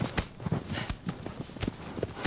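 A horse's hooves clip-clop at a steady trot in Shadow of the Colossus, with quick, close, evenly spaced hoofbeats heard clearly throughout.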